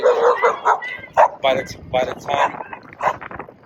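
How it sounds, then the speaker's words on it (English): A dog barks and yips in quick bursts while chasing a cyclist, loud and close, the sharp calls coming in an uneven run over a few seconds. "dog's trying to run me over, man, dog's trying to chase me."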